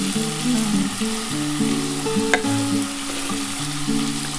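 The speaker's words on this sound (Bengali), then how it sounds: "এবার আমি পেঁয়াজটা দিয়ে দিচ্ছি" Onion goes into a pan of frying potato and bitter gourd for uchhe chachchari, with a steady close sizzle, stirring scrapes and a brief sharp clink partway through. Nobody speaks.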